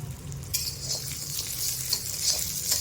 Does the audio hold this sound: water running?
no